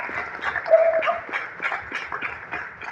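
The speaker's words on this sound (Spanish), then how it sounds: "Le damos un aplauso fuerte al Señor" A church congregation claps together in a dense, steady round of applause for the Lord, fairly close, with voices mixed in.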